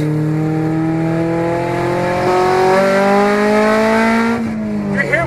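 A 1999 Honda Civic with an open header revs hard, the engine pitch climbing steadily into VTEC before dropping, with crackling pops at the end, loud and close.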